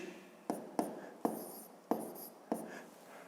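Numbers are handwritten during a fifth-grade subtraction exercise: five crisp, separate strokes or taps at uneven intervals, each dying away quickly, close and fairly quiet, with no talking.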